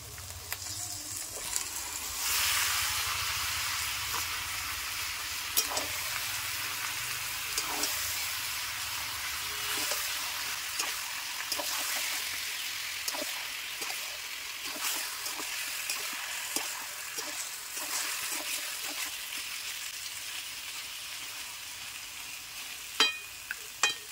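Chicken pieces fry in a Bengali spice paste of ground masala that has been cooked down until the oil separates, for a thin chicken curry. A steady, close sizzle runs throughout, with occasional clicks of stirring.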